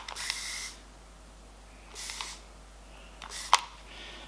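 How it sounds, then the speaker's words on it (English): Spray bottle misting a plein-air watercolour painting, with three short, breathy hissing puffs separated by quiet pauses and a faint click on the last one. "A little puff of spray."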